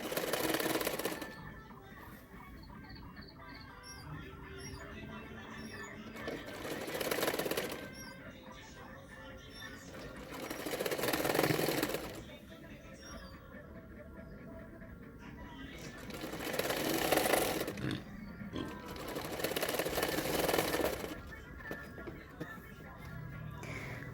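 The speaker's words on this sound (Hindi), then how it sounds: "स्लीव को मैंने 1/2 इंच मार्जिन रखते हुए सिलाई कर रही हूँ" A sewing machine stitching a net-fabric sleeve onto a designer long frock, heard as several separate bursts of fast mechanical whirring between quieter pauses. Someone talks softly between the runs.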